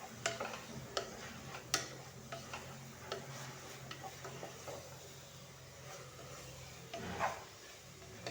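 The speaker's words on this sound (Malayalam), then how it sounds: "നന്നായിട്ടൊന്ന് ഇളക്കി കൊടുക്കാം." Crushed ginger and garlic being stirred in a pan, faint scraping with irregular spoon clicks and taps over a low sizzle.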